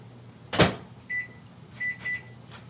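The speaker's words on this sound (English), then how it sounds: "I put it in the microwave for about 5 minutes" A kitchen microwave oven, used to cook short ribs, gives a sharp thump like its door, then several short electronic beeps in a quick pattern, close and clear.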